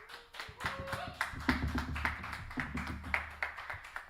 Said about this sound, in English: Please give a huge round of applause for Evan Woodle.